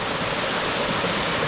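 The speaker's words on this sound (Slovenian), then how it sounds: "Skriti slap." A hidden waterfall in Bohinj, Slovenia, pours in a steady, dense roar of falling water that fills the whole moment evenly and close by, with no voices.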